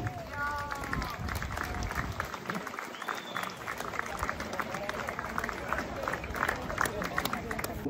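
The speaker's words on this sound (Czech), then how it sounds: "Ano, velký potlesk!" Crowd applause at a Czech harvest festival in Peruc, a dense patter of many hands mixed with voices and whistles, moderately loud and steady throughout.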